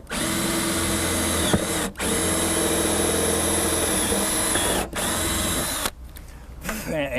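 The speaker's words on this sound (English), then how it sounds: "I'm going to drill through there and I'm going to install a couple of bolts." A loud power drill whirs steadily at close range, drilling through an RV awning rail, with two brief pauses before the drill stops and a few rustling handling sounds follow.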